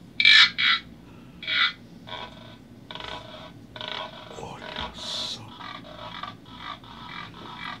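A jupati palm-stem flute imitating a chorus of tree frogs, with several loud, sharp croaking bursts early on followed by a steady run of softer, rhythmic croaks.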